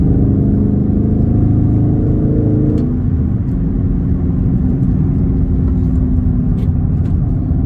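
A car with paddle shifters drops down through the gears, its engine note stepping and shifting before it settles into a loud, steady droning acceleration heard from inside the cabin.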